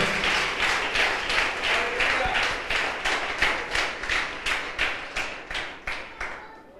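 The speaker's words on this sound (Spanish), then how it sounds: "Dale un aplauso fuerte al Señor." A church congregation claps together in a steady, rhythmic beat during a Spanish-language sermon, loud and close, the even claps fading slightly toward the end.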